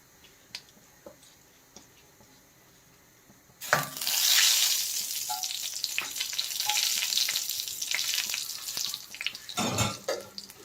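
Cumin, hing and two red chillies drop into hot oil for a tempering. After a few quiet seconds a sudden loud sizzle bursts out and keeps crackling and fizzing, with a few clinks and stirring sounds.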